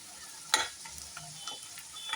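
An Arabian stuffed rice roll fries in a pan of oil after being turned over, giving soft, faint sizzling with a few sharp clicks of stirring or turning; no voices.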